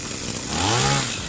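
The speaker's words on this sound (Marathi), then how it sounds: "मशीन क्लिअर चालू झालेलं आहे काय अडचण नाही" A petrol agricultural spray pump engine, just repaired and carburettor-adjusted, revs up and buzzes steadily close by, its rough motor drone rising in pitch before settling.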